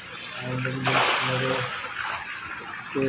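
A brief burst of splashing water in a fish farm pond, close and loud, between short stretches of talking.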